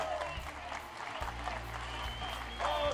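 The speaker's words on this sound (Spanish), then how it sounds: "Con el aplauso de todos" A studio audience claps and cheers on a televised singing competition, a moderate steady wash of applause with a host's voice partly over it.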